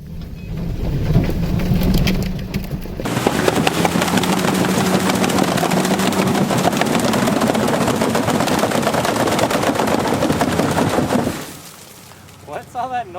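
An off-road vehicle stuck in a muddy hole revs its engine hard while its tires spin and fling mud, a loud continuous roar with spattering debris lasting most of the clip, then dropping off near the end.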